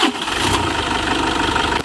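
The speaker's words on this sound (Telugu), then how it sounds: "ఒకసారి ఇంజన్ స్టార్ట్ చేసి చూపిస్తా చూడండి." A Toyota Innova 2.5 diesel from around 2012 or 2013 starts on a single crank, settling at once into a steady, loud close-up idle with a rough low rumble and no talking.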